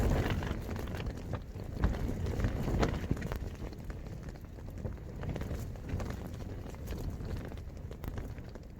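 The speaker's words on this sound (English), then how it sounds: "These gusts are like battering this tent." Steady roar of wind gusts battering a tent during a solo wild camp on Glenridding Dodd in the Lake District, with rapid flapping and rustling bursts throughout, loud and close, no speech.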